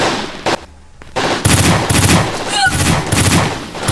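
Gunshots from a sound effect in an Ilocano drama: a short burst, a brief lull, then sustained loud rapid-fire gunfire with a sharp ricochet-like whine near the end.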